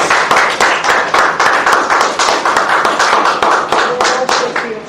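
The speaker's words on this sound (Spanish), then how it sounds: "¿Cuántos le dan un aplauso al Señor?" Congregation applause in a church service, steady dense clapping with sharp individual claps standing out, loud and continuous throughout with faint voices underneath.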